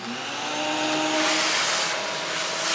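A vacuum cleaner runs with a steady, loud broadband whir, its motor tone swelling slightly midway and holding constant throughout, with no voices.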